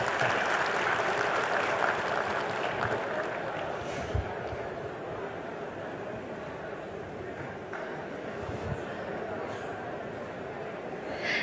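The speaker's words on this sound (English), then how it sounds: "Let's give a big round of applause for Mr. Umagine, CEO Broadline Computer Systems" An audience at the Umagine Chennai 2023 technology event applauds a speaker, a faint, continuous crackle of many hands clapping.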